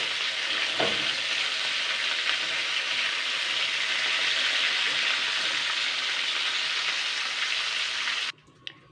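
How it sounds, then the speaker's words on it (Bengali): Fish heads for a Bengali murighonto fry in hot oil, giving a steady, close, dense sizzle that runs unbroken before cutting off sharply near the end. "উল্টে পাল্টে কিন্তু ভালো করে কিন্তু ভেজে নিতে হবে মাছের মাথাগুলো।"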